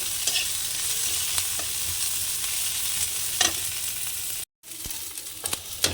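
Onions fry in a pan before the meat goes in: a steady, close sizzle broken by occasional stirring scrapes, with a sudden brief silence near the end.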